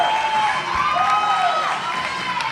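A crowd at a fitness competition chants and cheers, voices rising and falling in loud, drawn-out calls, with general cheering and applause behind them.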